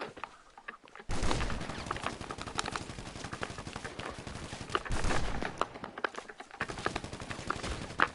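Rapid, loud gunfire in Grand Theft Auto Online, bursts of fast repeating shots that run for several seconds, break briefly, then resume.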